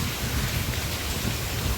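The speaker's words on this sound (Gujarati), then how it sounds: "હવે તો આ બંધ થવાનું નામ લેતો નથી વરસાદ." Heavy monsoon rain pours down continuously, a dense, loud roaring hiss with a deep rumble beneath, steady throughout with no voices.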